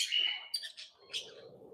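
Lovebirds in a colony aviary give a quick run of bright, high chirps and tweets, close and clear, then a softer call trailing off over a quiet background.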